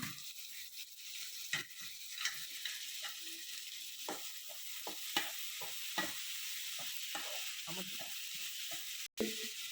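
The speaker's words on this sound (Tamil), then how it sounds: "வெங்காயம் நல்லா வதங்கின பிறகு தக்காளியை நான் அரிஞ்சு வச்சு தக்காளியை போட்டுக்கிடுவேன்" Onions and tomatoes sauté in a pan, with a quiet, steady sizzle broken by frequent short stirring scrapes.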